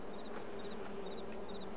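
Bees buzz in a steady, continuous drone in the Farming Simulator video game, with a faint repeating high chirp over a low hum and no talking.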